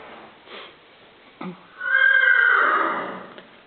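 A mare lets out a clear, drawn-out whinny, rising and then fading over about two seconds, preceded by a couple of soft snorts and a short thump, heard alone and fairly close.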